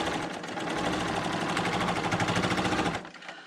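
A Bernina L890 sewing machine stitching log cabin quilt blocks, a steady fast mechanical chatter running close and loud for about three seconds before stopping abruptly.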